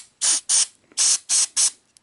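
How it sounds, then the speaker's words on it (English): Five short hissing bursts of spray cleaner, the third slightly longer, aimed at the switches inside a PAL Betamax VCR under repair, sounding close and loud with brief silent gaps between them. "I'm just gonna spray a little bit of cleaner on these switches here"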